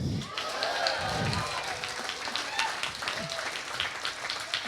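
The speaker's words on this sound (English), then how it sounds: "keep the applause going for your first performer" Audience applause and cheering fill a comedy theater during an open mic competition final, a steady sustained wash of clapping with a host's voice heard over it.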